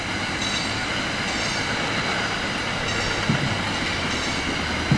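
An NJT Comet V rail car rolls past at RBC Field with a steady, broadband rumble of wheels on track, close and continuous, with faint periodic clicks from the rail joints.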